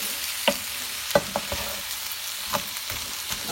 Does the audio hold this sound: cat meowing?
no